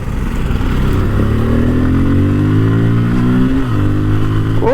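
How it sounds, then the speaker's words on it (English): A Bajaj Pulsar N250 motorcycle pulls away under hard acceleration, its exhaust giving a deep, bassy drone that rises steadily in pitch, dips briefly at a gear change, then climbs again, loud and close. "nice acceleration, and the sound of the exhaust is really soothing, man"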